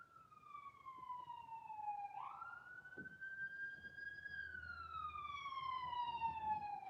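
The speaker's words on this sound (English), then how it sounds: "Now I'm hearing sirens." A single emergency siren wails in a slow rising and falling sweep, faint and distant, over a low background rumble.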